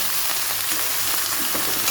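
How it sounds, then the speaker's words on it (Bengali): Radish, potato, beans and eggplant fry together in a pan, giving a steady, close, loud sizzle with faint stirring and no voices. "সবজি সবজিগুলো একসাথে দিয়েছি ভাজা করে"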